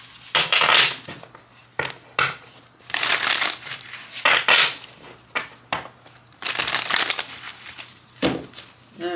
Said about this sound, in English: We're going to go ahead and do another shuffle.